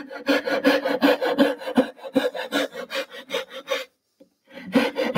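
Rhythmic hand sawing through wood for a side table, quick back-and-forth rasping strokes close up, briefly pausing before resuming, with no talking.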